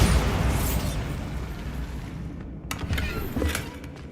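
Bombarda spell explosion in the video game Hogwarts Legacy, a dense loud burst with a booming low rumble that holds and slowly fades, followed by scattered sharp debris cracks and pops.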